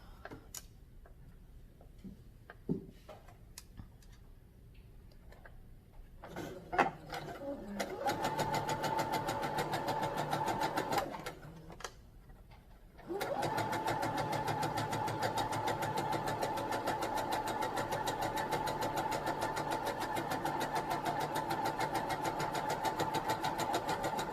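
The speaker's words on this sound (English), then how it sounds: "you can get fancy with your sewing, and you can back stitch it and all that kind of good stuff" A sewing machine stitches a fabric face mask with a removable filter, running in two steady mechanical bursts with a short pause between, loud and close, after a stretch of quieter handling sounds.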